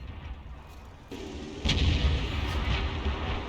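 A tank cannon firing a kill shot in a tank battle video game, a deep boom that starts abruptly and rolls on as a heavy low rumble, following quieter low-end background noise.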